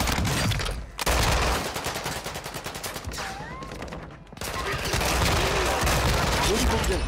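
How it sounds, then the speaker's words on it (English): Warzone gunfire roaring as rapid automatic bursts, loud and close, with one short break before it resumes, while players talk over the shooting. "I'm taking fire."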